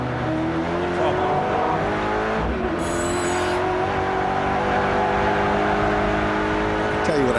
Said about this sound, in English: Huge understeer. Listen to the tires just squealing.